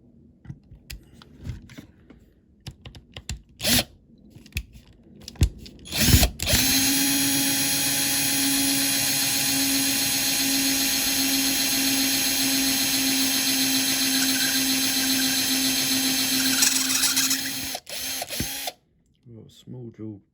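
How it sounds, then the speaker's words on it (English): A small power drill bores out rivets on a Buick Regal being built into a banger racing car, a loud steady whine held for about ten seconds after a few short bursts and clatter, stopping abruptly. "Got a small drill as a pilot first, just to get started."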